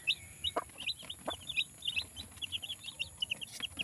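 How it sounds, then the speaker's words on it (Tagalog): Newborn chicks, about three days old, peep in rapid high chirps throughout, with a few lower clucks from the hen mixed in, all close and fairly loud, with no talking. "Ayan guys, yung ating bagong panganak na manok. Ang dami nila guys."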